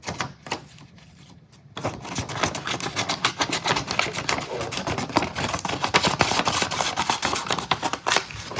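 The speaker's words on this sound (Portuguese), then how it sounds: "Vamos testar aqui um pouco essa tesoura." Large Rocktol Gen R Lite scissors with a VG-10 steel blade snipping repeatedly, a dense run of sharp close clicks and cuts following a brief quiet start, with no talking.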